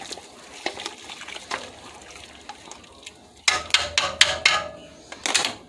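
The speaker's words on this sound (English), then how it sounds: "Once you have the rice all in, you want to give it a good stir." Rice is stirred in a cooking pot with a spoon, making soft scraping and wet sloshing scrapes that turn louder and quicker in the second half, close up with no talking.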